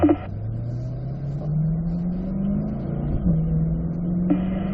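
A race car engine held in fourth gear on a racetrack, droning loud and steady as its pitch slowly rises, with a brief dip where the revs shift.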